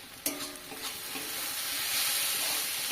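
Cabbage cooking with salt in a covered pan, a soft continuous sizzle building gently after a single sharp clink, alone without speech.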